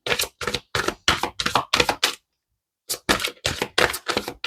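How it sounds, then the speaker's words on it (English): A deck of playing cards being shuffled close up, a run of quick crisp riffling bursts, then a brief pause before another rapid series of riffles, with no one talking. "And I wasn't done shuffling"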